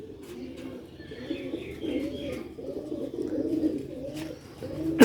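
Sialkoti black-faced pure Sheikh pigeons coo in low, rolling, repeated phrases, close by and steady, with no voices over them.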